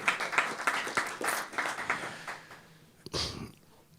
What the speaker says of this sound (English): you could give him an applause